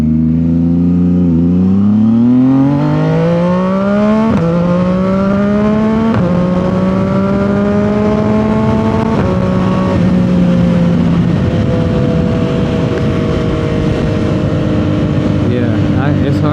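A 2025 CFMOTO 675 SS motorcycle with a new full exhaust accelerates hard through several gears, its loud engine note climbing in pitch and dropping at each shift, close to the rider, with wind noise behind it.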